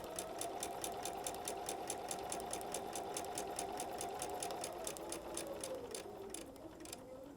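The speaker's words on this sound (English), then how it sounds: "I also have my seam guide on my machine to make sure I'm sewing my 1/4 inch" A home sewing machine with a seam guide runs a steady quarter-inch seam through stretchy border-stripe fabric, its fast, even needle rhythm continuous and close, slowing slightly near the end.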